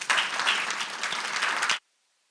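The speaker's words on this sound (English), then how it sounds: "If we could give her a big round of applause." Audience applause at a town council meeting for the town's mayor: a dense burst of clapping from a room of people that runs steadily for under two seconds and then cuts off abruptly to silence.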